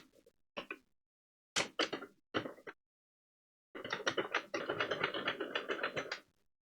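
Handle of a Sentro knitting machine cranked while knitting a yarn beanie: short bursts of plastic ratcheting clicks, then a longer run of rapid rhythmic clatter, close and fairly quiet.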